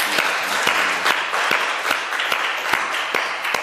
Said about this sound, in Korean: 한 주간도 말씀 주신 주님 앞에 감사의 박수 드리겠습니다